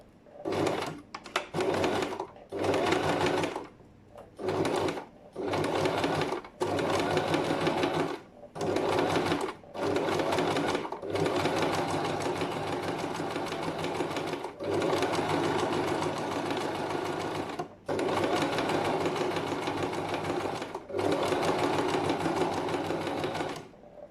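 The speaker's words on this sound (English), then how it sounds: "I'm gonna start sewing" A sewing machine stitches a batik binding, running in short stop-start bursts at first and then in longer continuous runs, with a close, steady whirring rattle and no talking.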